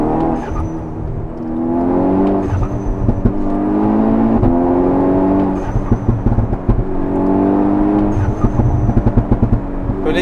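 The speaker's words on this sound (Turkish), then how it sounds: "Dampfer'in sesini bir göster bize istersen." A tuned Stage 2+ VW Golf 6 R with popcorn exhaust software revs repeatedly, its engine rising and falling loudly in sustained pulls, with sharp pops and crackles between revs.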